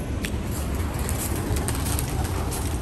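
Racing pigeons coo in a home loft on the first day of a season's home flying, soft repeated low coos close by over a steady rustle, with light chirps and no voices.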